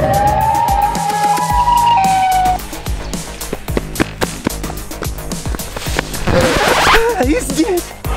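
In a video game, the Siren Head monster's siren wails loudly with a rising, wavering tone. It then gives way to dense clattering game noise while a voice talks excitedly over it.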